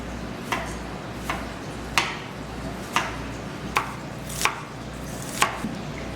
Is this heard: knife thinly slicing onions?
yes